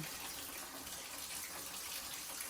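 Tap water runs through a ThermoMate 4.5kW tankless electric water heater, giving a steady, even rushing and splashing stream with no pauses.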